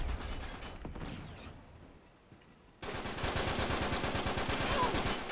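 Gunfire in Uncharted 3 multiplayer on the Dry Dock map: a burst of shots, a brief lull, then sustained rapid automatic fire, loud and close.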